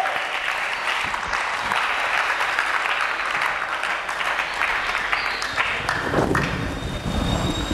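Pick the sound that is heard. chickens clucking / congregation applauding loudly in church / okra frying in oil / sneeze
congregation applauding loudly in church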